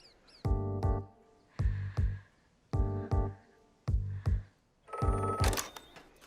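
A telephone rings in a Telugu movie scene, sounding as a series of distinct bell bursts in a steady, repeating rhythm, clear and fairly close with short quiet gaps between rings.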